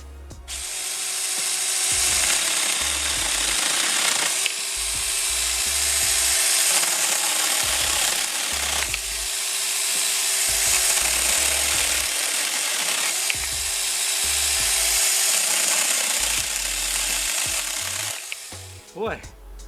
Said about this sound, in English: let's see what the chainsaw can do on them